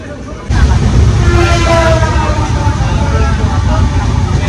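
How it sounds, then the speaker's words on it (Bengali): A Kolkata–Digha passenger train pulls out of a station in India, a loud rumbling roll of carriages on the rails that swells in suddenly, with faint squeals and voices around the carriage. "এক্স্যাক্টলি দু মিনিট দাঁড়িয়ে ছাড়লো ট্রেন"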